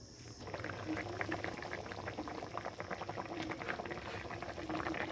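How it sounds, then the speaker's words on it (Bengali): Tengra fish curry bubbles at a steady, vigorous boil in a pan, a continuous close-up rush of popping bubbles and simmering liquid with no voices. "ফুটে উঠছে এবার"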